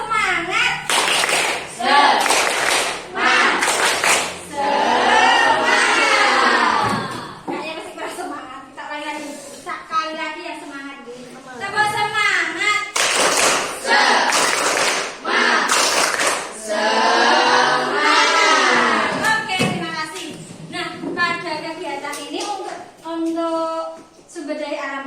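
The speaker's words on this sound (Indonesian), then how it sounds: "Kita bersama-sama tepuk semangat." A class of children chants the rhythmic tepuk semangat, with sharp patterned hand claps in quick groups alternating with loud shouted voices, repeated several times with a strong beat.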